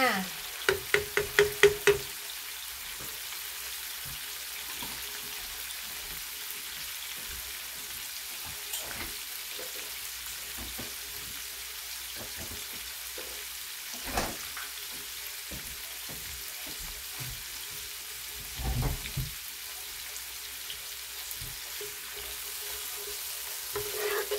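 Onion, ginger and garlic frying in a pan for a fish dish, a soft continuous sizzle with occasional stirring clicks and scrapes, fairly quiet and steady throughout.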